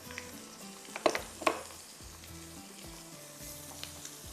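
Mutton frying in a pan with turmeric, red chili, black pepper, ginger garlic, salt and cashews sizzles softly and steadily, with a couple of brief clinks of a utensil stirring.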